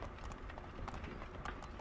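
Horse hooves clip-clopping at a run in Assassin's Creed 3, a steady, quiet patter of galloping horses with no voices over it.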